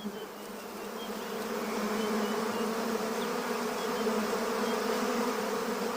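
A dense, continuous buzzing of a honeybee colony nesting in a hollow baobab limb hums steadily throughout, a thick drone with no pauses and no voices.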